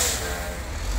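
A cement truck at a concrete pour on the Inkster bridge construction project in Kalamazoo, Michigan, runs with a steady heavy engine rumble and a brief hiss, close by and without talk.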